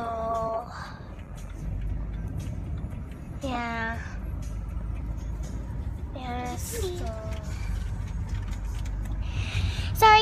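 A car's steady low road rumble fills the cabin during a drive to school, with short bursts of a child's and an adult's voices talking over it.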